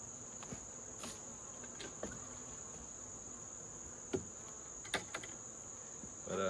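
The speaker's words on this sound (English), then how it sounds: "So I got some loud buzzing going around, and that's these European hornets." European hornets buzzing around beehives outdoors, a faint steady insect hum with a constant high whine, broken by a few brief knocks and louder passes near the end.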